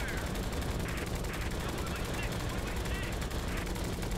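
Bomber tail gunners in the Flying Tigers: Shadows Over China flight game keep up continuous rapid gunfire, a dense steady rattle of machine-gun bursts over engine drone, with a voice speaking over it.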